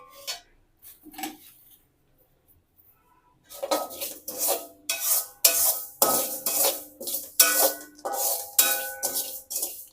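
Dry fenugreek and whole spices being roasted and stirred in a hot pan. A few faint clinks come first, then a short quiet, then a rhythmic series of close scraping and clattering strokes from the spoon against the metal.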